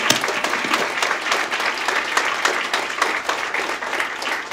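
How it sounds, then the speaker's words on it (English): Loud, sustained applause at a Long Beach civic gathering for city staff and board members, many hands clapping together in a thick, even wash with no speech over it. "let's just give the entire staff and the board a big round of applause for their work."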